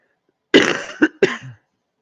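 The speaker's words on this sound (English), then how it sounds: "I apologize for coughing in your ear." A short burst of coughing up close, one harsh cough followed by two quicker, throatier coughs, then silence.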